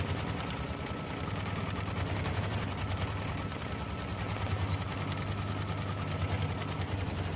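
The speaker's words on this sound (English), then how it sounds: "we'll see this little placement stitch stitch out for the strawberry." Embroidery machine stitching an applique placement outline for a strawberry design, a fast steady mechanical rattle of needle strokes that continues evenly throughout at moderate volume.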